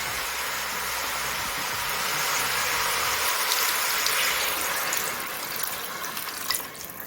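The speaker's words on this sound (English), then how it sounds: "you need to add water just to cover the meat" Water pours steadily from a tap into a pan of Jamaican-style curry beef, a continuous close rushing gush lasting several seconds with no talking.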